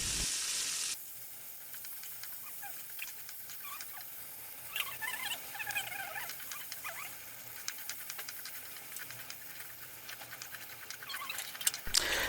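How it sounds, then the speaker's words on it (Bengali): Chicken sausages fry in hot oil in a pan with a steady close sizzle and crackling pops that rise and fall, no talking. "তেলটা গরম হয়ে আসলেই আমি এর মধ্যে চিকেন সসেসগুলো দিয়ে দিব"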